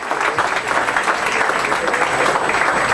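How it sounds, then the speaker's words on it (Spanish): Loud, dense applause from a conference audience welcoming a speaker, continuous for the full stretch, with a faint steady tone in the background. "un aplauso por favor"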